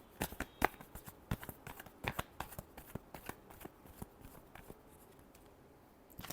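Tarot cards being shuffled by hand, a rapid run of crisp riffling flicks and taps repeating unevenly, close and fairly quiet, with no talking.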